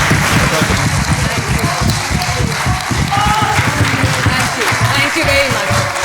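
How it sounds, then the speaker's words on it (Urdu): A crowd at a Pakistani political gathering claps loudly and continuously, a thick wash of applause with a faint voice buried underneath. "میں آپ کو درخواست کروں گا کہ مریم نواز کے لیے بھرپور تالیاں بجائیں"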